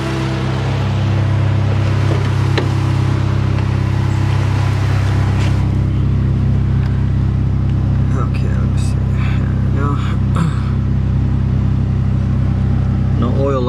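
A turbocharged Honda Civic EK hatchback idles while warming up with the AC running, a loud steady low engine drone heard up close throughout, with a person talking over it.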